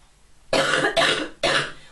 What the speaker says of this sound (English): Oh, Grandma's got a terrible cough.